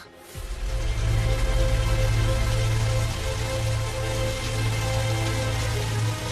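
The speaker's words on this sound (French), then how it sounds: "La pluie était très forte." Heavy rain pours down steadily and loudly, a dense continuous wash with a low rumbling undertone that holds for several seconds without any voices.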